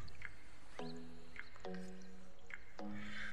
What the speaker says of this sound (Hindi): तो अब हम इसमें थोड़ा थोड़ा पानी डालकर आटे को अच्छे से गूंथ लेंगे।